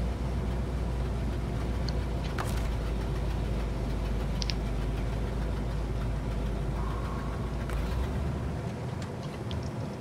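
Imandra Loadstar heavy recovery truck in SnowRunner idling, a steady low engine drone throughout with a few faint clicks and knocks, easing off near the end.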